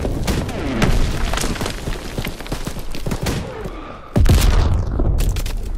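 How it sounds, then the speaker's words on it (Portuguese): A grenade exploding in Call of Duty, with a heavy booming blast bursting out near the end after a stretch of chaotic gunfire and thumps. "Granada."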